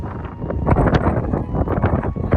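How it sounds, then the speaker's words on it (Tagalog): Strong wind blows outdoors on a spring afternoon where seagulls are being fed, buffeting the microphone with a loud, continuous low roar and gusty rumbling. "It's a very windy afternoon."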